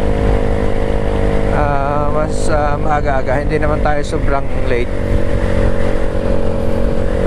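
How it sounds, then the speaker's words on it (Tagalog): Motorcycle engine running steadily, with occasional backfire, a loud constant drone under someone talking for much of the time. "Buti nga okay itong motor na to."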